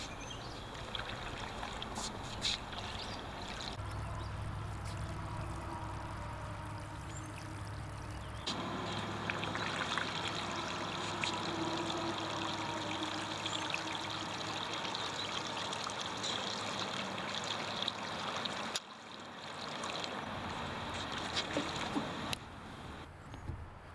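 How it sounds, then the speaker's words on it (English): A fishing line spool turns in a 5-gallon bucket of water as line is wound onto a reel, producing a faint, continuous sloshing trickle with a low hum, broken by a few abrupt shifts. "I'm gonna let the spool ride right in the water as I spool this onto my reel."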